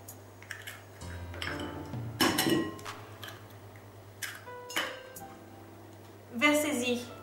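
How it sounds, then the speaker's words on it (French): Three eggs are cracked into a bowl while making quiche lorraine, sharp clinks and taps spaced apart over a low hum, with a person speaking in between. "cassez vos 3 œufs"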